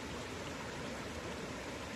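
Cascading waterfall at Maspie Den, a steady broadband rush of falling water heard alone at low level without any voices.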